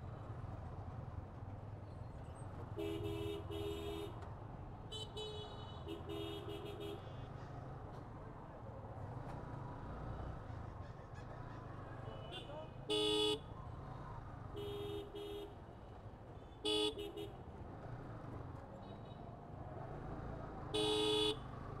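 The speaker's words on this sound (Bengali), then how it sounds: "হর্ন দিলে নর্মালি সরে না" Horn blasts on a Bangladeshi road ridden on a Yamaha R15M or CBR150R among battery-powered auto-rickshaws: several short honks in pairs and singles, loud and near, rising over steady traffic and wind rumble.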